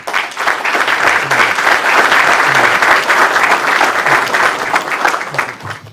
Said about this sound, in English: Let's take a round of applause to welcome Rabbi Tovia Singer.